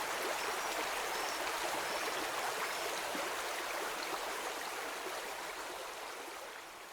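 Floodwater rushing through a flooded area in Nghe An after heavy rains raised river levels, a dense, steady roar of fast-moving water that stays loud throughout and eases slightly toward the end.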